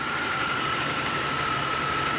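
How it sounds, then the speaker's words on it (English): A 1994 Buick Regal GS engine idles steadily throughout, a continuous close mechanical drone with a constant whine running through it and no talking. "we've actually got the car engine to idle normally"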